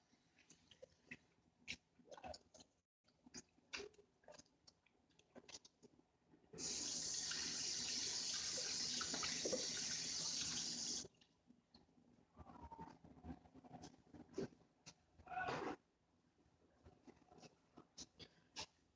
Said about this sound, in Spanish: voy a enjuagar un poquito las manos